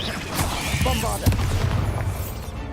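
A Bombarda blasting spell bursts in Hogwarts Legacy, a loud booming explosion with rumbling low crashes and debris-like clatter spreading over a couple of seconds, with a voice speaking faintly underneath.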